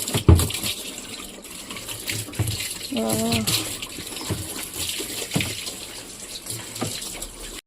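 Tap water gushes steadily into the tub of a semi-automatic washing machine during a clothes wash, a close, continuous rushing flow with a brief voice heard partway through.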